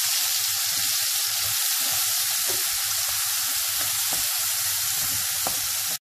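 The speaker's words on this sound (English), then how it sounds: "followed by the onion paste, and let it fry until nicely browned." Onion paste with kalonji fries steadily in hot oil for a Bengali fish curry, a loud, close, continuous sizzle holding evenly throughout with a few faint pops.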